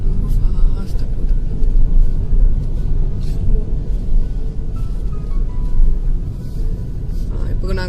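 A car driving slowly on the mountain road from Ambasamudram to Courtallam, a loud steady engine and road rumble heard from inside the vehicle, with people talking over it throughout.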